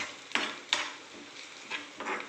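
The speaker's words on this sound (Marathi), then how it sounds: "हे जे आपण खोबरं किसलेलं होतं ते मी त्यात ॲड करतो त्यालाही परतून घ्यायचं आहे आपल्याला" Grated coconut and onions being sautéed in a pan for puri bhaji, heard as soft scraping stirs with a couple of sharper spoon clicks against the pan, close and moderately quiet with no talking.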